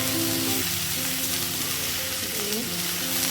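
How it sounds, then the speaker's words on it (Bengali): Cabbage frying in a pan with ginger and tomato, a continuous loud, broad sizzle heard close up beneath steady tonal background music. "বাঁধাকপিটা এবার দিয়ে দিচ্ছি সব ভালো করে ফ্রাই করে"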